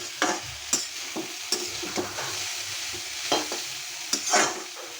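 Fried taro stolons sizzle in a pan as eggs and green chilies are stirred in, a steady frying hiss broken by repeated scraping strokes of the spatula at close range, with no talking.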